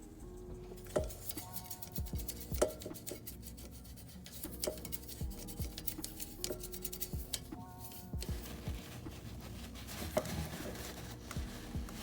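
A toothbrush wet with cleaner scrubs inside the throttle body housing of a Hyundai or Kia engine, giving close, steady rasping strokes that repeat in an uneven rhythm with no talking.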